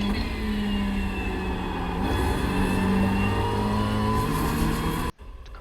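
A car engine hums steadily close by, with a slight rise in pitch midway, then cuts out abruptly near the end, leaving quiet.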